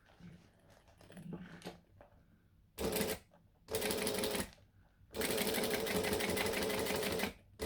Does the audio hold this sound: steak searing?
no